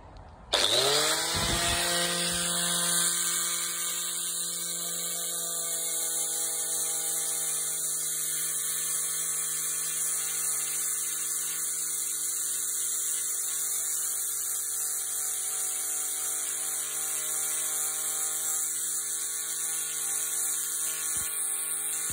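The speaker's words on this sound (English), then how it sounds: "we'll try it with an 80 and just polish some of this scratching that the first disc has caused" An 80 grit abrasive disc on a power tool polishes a lump hammer head, a loud, steady high-pitched whir and grinding hum that runs on without a break after a sharp start.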